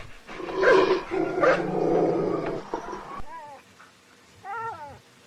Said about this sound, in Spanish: Lo escuchaba que comenzaba a ladrar, como atacando a alguien.